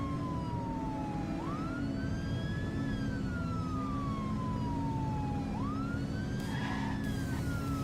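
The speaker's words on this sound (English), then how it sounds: "And yes, I have my siren on to go get food." A police car siren from The Precinct, the 1980s cop sandbox game, cycles through slow rising and falling wails, loud and near, riding over a steady engine drone with a brief burst of extra noise near the end.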